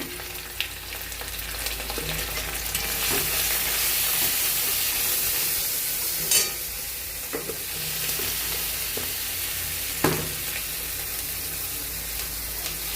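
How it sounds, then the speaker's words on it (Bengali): Spices fry in a pan with a steady close hiss and sizzle, punctuated by a few sharp scrapes and knocks of stirring. "মশলাটা ভাজা হয়ে গেছে।"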